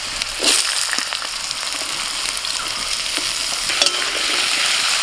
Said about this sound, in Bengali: প্রথমে আলুটা একটু ভেজে নেব